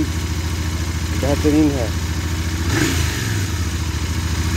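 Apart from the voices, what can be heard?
Royal Enfield Interceptor 650 motorcycle exhaust rumble, 270-degree crank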